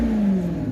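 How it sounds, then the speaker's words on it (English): A 2017 Maserati GranTurismo Sport engine revving, close and loud, with a steady deep tone that slowly sags in pitch over a brief moment. "So let me just rev this a little and hear, you know, what everybody loves this car for."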